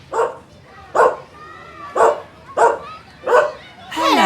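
A dog barks close by in about six separate sharp barks at roughly even intervals, ending in a higher whining yelp, with a voice briefly speaking alongside.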